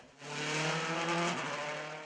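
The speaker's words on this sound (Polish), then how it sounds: "widzieliśmy w Rzeszowie także samochody WRC" A WRC rally car driving at the Rzeszów rally in Poland, a loud high-revving engine roar that swells up close and holds for a couple of seconds before easing as it moves away, with a squeal of tires.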